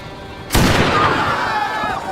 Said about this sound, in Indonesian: suara tembakan tiba-tiba terdengar.